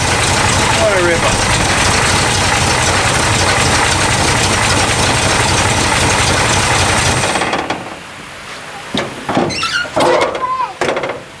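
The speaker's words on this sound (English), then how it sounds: "We got a squealing fan belt." A 1969 Ford Mustang coupe engine runs loud and steady with a high squealing fan belt for about seven seconds, then cuts to quieter scattered clunks and bumps.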